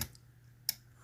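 Two faint, sharp metallic clicks from pins setting while picking a Mul-T-Lock euro cylinder dimple lock, one at the very start and one about two-thirds through, over low steady hum.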